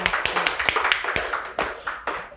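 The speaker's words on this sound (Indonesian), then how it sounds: "tepuk tangan sekali lagi buat Ibu Sri Hidayati Juhaida" An audience claps for a guest at a school talk event, a short burst of a few hands clapping close by with distinct separate strikes, tapering off.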